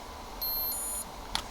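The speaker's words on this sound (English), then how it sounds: "Ooh, I love the fact that they've got a beeping noise." A GHD Gold hair styler switches on with a short electronic beep, a sustained high tone that steps down in pitch before cutting off, followed by a faint click in a quiet room.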